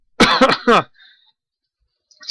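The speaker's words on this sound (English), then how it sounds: "got a little cough" A few quick, harsh coughs close to the microphone, clustered together, then near silence with a faint breath.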